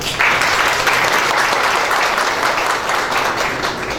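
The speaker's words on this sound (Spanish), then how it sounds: "Lo recibimos con un fuerte aplauso" An audience at a blood bank quality seminar breaks into loud, steady applause, a dense wash of many hands clapping continuously for the full four seconds with no speech over it.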